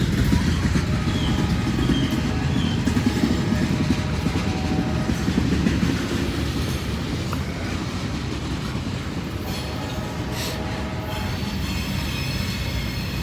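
A long freight train rolls south through Hamilton, its railcars rumbling and clattering steadily close by, with faint wheel squeal on the rails as the cars keep passing without pause.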